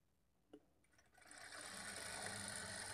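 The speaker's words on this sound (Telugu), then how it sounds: "ఈ మార్కింగ్‌కి స్ట్రెయిట్‌గా స్టిచ్ చేసుకోవాలి" A sewing machine stitching a blouse lining starts up after a soft click, then runs in a steady, fast whirring hum, close and fairly quiet, with no voices.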